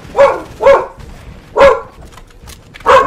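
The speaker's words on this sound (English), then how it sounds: "She starts barking right now at endgame." A dog barks four times, loud and close, in two quick pairs with a short pause between.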